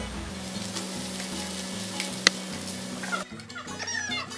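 Rice pantaneiro, a thick rice dish, is stirred in a frying pan with a continuous sizzle and scraping, a sharp clink at one point, then a quieter, softer bubbling.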